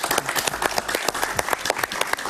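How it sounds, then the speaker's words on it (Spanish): Studio audience applauds a guest on a Spanish-language television interview show, dense and continuous clapping with sharp individual claps standing out, moderately loud throughout. "Un aplauso para él, por favor."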